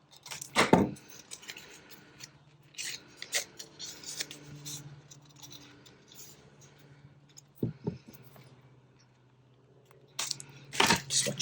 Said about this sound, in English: I'm going to cut off the same amount that I did for the journal cards